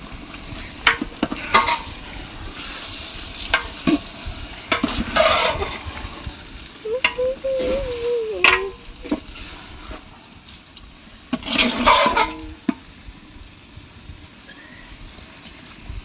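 Rice and red lentils fry in a pan for khichuri, giving a steady soft sizzle, while a spoon stirs them in several bursts of scraping and rustling, heard close up.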